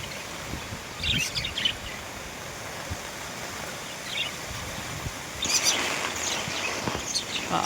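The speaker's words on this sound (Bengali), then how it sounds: "এই হচ্ছে আমার পাখির কলোনি। অ্যাকচুয়ালি এখানে পাখি আছে" Budgerigars in an indoor breeding colony give bright, high chirps in short scattered bursts, a couple of livelier clusters standing out. Fairly faint and close, over a soft background hiss.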